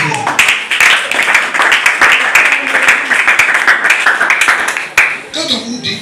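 A church congregation applauds and claps in praise of the Lord, a loud dense burst of clapping over several seconds with voices mixed in.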